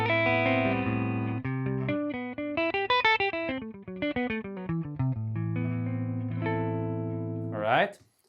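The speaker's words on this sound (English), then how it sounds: "So great clean tones right out of the bat, with a little bit of hair because I cranked up the gain up to 7" A 1958 Fender high-powered Twin amp profile plays a clean electric guitar tone with a touch of breakup from the gain set to 7, strumming sustained chords and then a run of picked single notes, loud and alone.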